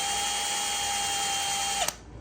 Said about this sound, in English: Then I used the drill to go around because there's a lot of spins you have to go.